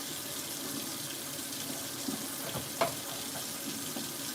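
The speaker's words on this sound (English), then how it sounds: "I'm just going to add some more water to" Water poured from a tap into a pot of simmering cinnamon water, a steady close rushing stream with a couple of small clinks, no talking.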